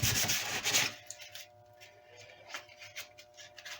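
Light sandpaper rubs behind a repair on a redwood guitar body, first in a few loud, quick back-and-forth strokes and then in softer, scattered scrapes close up.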